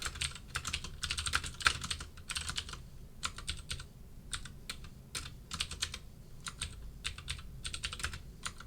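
Someone types on a computer keyboard during a programming lecture. The keystrokes come as quick, clattering bursts with short pauses between them, close and moderately quiet, with no talking.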